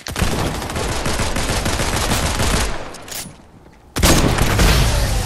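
Dense, rapid gunfire in Fortnite, loud and close, runs in a continuous burst, fades for a moment, then cuts back in sharply at full strength.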